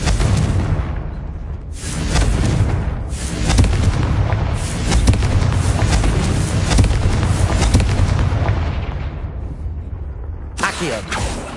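A Confringo spell explodes in a video game with a loud, sustained blast that booms and rumbles for several seconds, followed by a second burst near the end.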